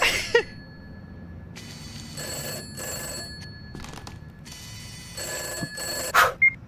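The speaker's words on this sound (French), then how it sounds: "Au téléphone, va répondre au téléphone" A telephone bell rings in repeated short bursts in the horror video game Summer of '58, steady and clear, with brief pauses between rings and a couple of sharp clicks near the end.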